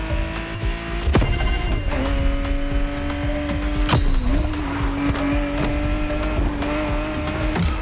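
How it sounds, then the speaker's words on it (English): A car drifting along a winding Hawaiian mountain road in The Crew Motorfest, a steady loud engine drone with sustained tire squeal and occasional sharp clicks, no voices. "Drifting is the best way to take sharp turns without losing speed"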